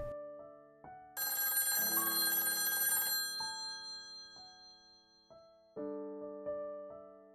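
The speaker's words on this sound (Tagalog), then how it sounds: "Halos ako'y mapatalon sa labis na tuwa nang tumunog ang telepono." A telephone bell rings in a loud, sustained burst of roughly two seconds, then gives several shorter tonal rings and chimes in a quiet setting, with no voices.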